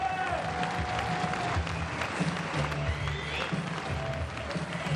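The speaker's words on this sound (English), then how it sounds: "The crowd in Berlin fired up for the 4th set." A crowd applauding at an archery World Cup stage in Berlin, a dense, continuous wash of clapping and crowd noise that holds steady from start to finish.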